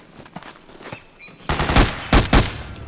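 Gunfire in Metal Gear Solid 4, sparse distant shots at first, then a loud close burst of rapid automatic fire with sharp repeated cracks.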